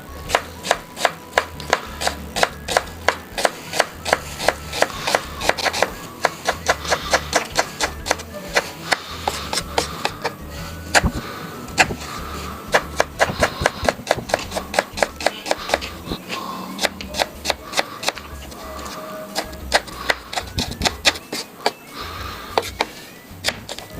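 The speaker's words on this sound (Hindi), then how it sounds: "प्याज आपने इस तरह काटना।" An onion is chopped with a knife on a board in rapid, steady, close-up strokes that continue evenly throughout.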